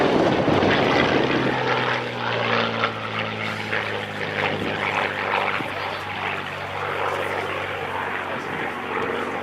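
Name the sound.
Supermarine Spitfire aircraft flying with propeller engine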